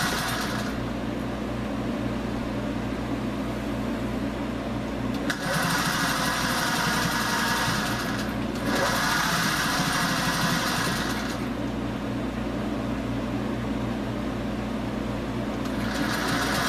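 Sewing machine stitching through the shoulder seam of an 18-inch doll dress, running in a steady close whir with several short faster bursts of stitching, no talking.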